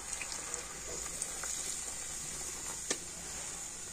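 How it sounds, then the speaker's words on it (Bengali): Hot water poured into a pan of sizzling potato and pea curry makes a faint steady hiss with soft splashy crackles and one sharper tap, without talking. "আমি গরম জল নিয়েছি, তো দিয়ে দিচ্ছি।"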